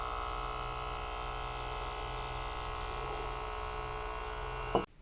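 A 12V espresso coffee machine runs with a steady electric pump buzz and hum, close and fairly quiet, holding constant for several seconds before cutting off abruptly near the end.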